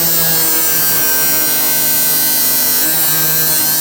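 Steady, loud high-pitched buzzing of an oscillating multi-tool running continuously as its blade is sharpened with a Tigers Teeth blade sharpener, with no breaks or talk.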